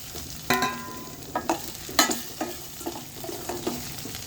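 Onions, tomatoes and curry leaves sauté in a pan for radish sambar, with a soft sizzle under several sharp scraping clanks of a spoon stirring against the pan, close and intermittent.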